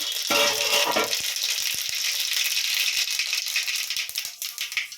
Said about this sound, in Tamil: இந்த பருப்பா கடுகு பருப்பு போடுறேன்.